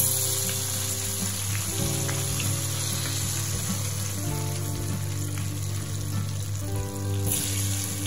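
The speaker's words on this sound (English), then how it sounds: "just use the frozen curly fries and dip it in oil and let it cook for about 10 minutes" Frozen curly fries deep-frying in a full pot of oil give a steady, dense sizzle with constant bubbling crackle, close and even throughout, with a low hum behind it.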